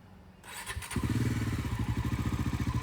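A Bajaj Pulsar motorcycle engine fires up close by, then settles into a loud, rapid, throbbing idle with rhythmic exhaust pulses.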